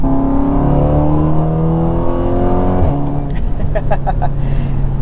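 A big-turbo Audi S3 accelerates hard, its engine note climbing steadily and loudly before a brief drop at a shift, then pulling again with a whooshing, whirring turbo.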